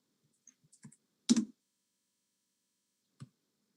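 A few sparse keystrokes on a computer keyboard during a livestreamed city accessibility advisory board meeting: light scattered clicks, one louder quick cluster of taps, then a single late click, close and isolated against silence with no talking.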